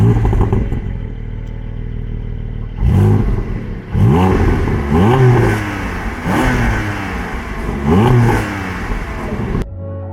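A 2022 Porsche Cayman GT4 engine roars through repeated hard accelerations on the road, each rising rev sweep followed by a quick drop at the gearshift, about four pulls in a row, loud and close from inside the cabin, then cut off abruptly.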